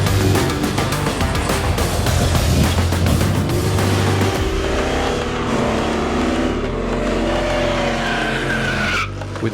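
Drag racing cars at Santa Pod Raceway during Street Weekend 2025 roar loudly with tire squeal and skidding at first, then the engine noise eases into quieter, lingering revving and rumble.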